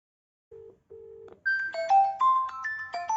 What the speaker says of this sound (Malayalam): ഞാൻ ആദ്യം ഈ ഫോണിൽ നിന്ന് ഈ ഫോണിലേക്ക് കോൾ ചെയ്യുകയാണ്